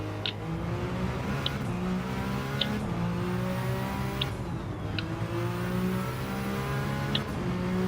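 The Peugeot 9X8 hypercar's engine drones steadily in Gran Turismo 7 as it climbs and falls through the rev range, a continuous close buzz with a few short clicks on top and no voices.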